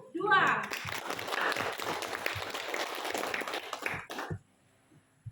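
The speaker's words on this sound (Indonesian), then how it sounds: "beri aplaus untuk kelompok 2" Classroom applause for a student group, a brisk burst of clapping from many hands that carries on under a voice, then fades out into near silence.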